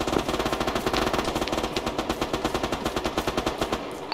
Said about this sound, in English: A lot of MG fire near me